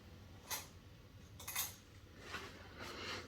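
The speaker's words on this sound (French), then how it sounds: "je vais prendre une cuillère" A metal spoon is picked up from among kitchen utensils while making apple and frangipane galettes, giving a few faint, brief clinks spread over a quiet background.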